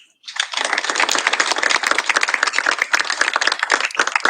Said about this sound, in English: A round of applause for AT&T.